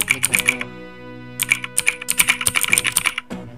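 Rapid clicky keystrokes from a laptop or PC keyboard carrying an added mechanical, typewriter-like sound effect, in two bursts of fast typing separated by a short pause, close and clear with no talking.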